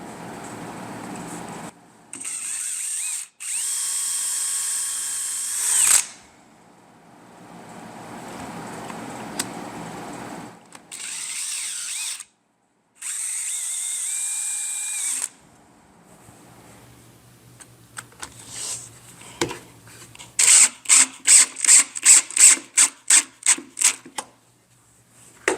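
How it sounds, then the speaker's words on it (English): A power drill drives screws to join two pieces of a wooden shelf, sounding as several whirring bursts that rise and fall in pitch, separated by short pauses, then ending in a quick run of ratcheting clicks. "I'm going to screw these two pieces together"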